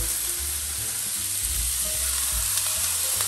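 Continuous loud sizzling of onions frying in hot sunflower oil, with occasional stirring, no voices.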